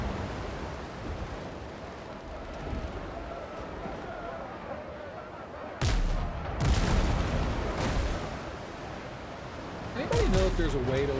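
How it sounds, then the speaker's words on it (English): Ship cannons firing in the naval game Archipelago: two heavy booming blasts ring out over continuous sea and engine ambience, the first just before the midpoint and another near the end, with a few lighter bursts in between. "there's 2 forward cannons to freaking rip this thing"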